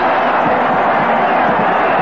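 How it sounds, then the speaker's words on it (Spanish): A stadium crowd applauds early in the 1983 Copa Libertadores final between Peñarol and Gremio, a brief, dense roar of clapping and crowd noise from the stands. "El aplauso de la tribuna en los primeros 5 minutos de juego"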